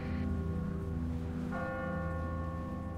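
A church bell in The Walking Dead video game rings with sustained, resonant tones, and a fresh strike partway through renews the ringing, loud and close with no talking.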